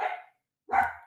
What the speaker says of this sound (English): That's a dog. That's not a fly.